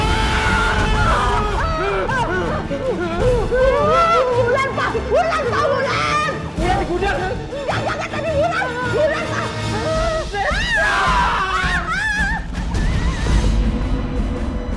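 Several people screaming in alarm during a sudden blackout at night, wavering shrieks and cries layered over each other with a clattering crash, loud and continuous, with people talking among the commotion.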